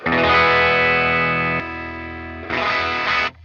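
Electric guitar run through a Red Sea stereo parallel FX splitter with its polarity switched: a dense, distorted sustained chord ringing loudly, fading slightly, then a second strummed chord near the end, with no voices.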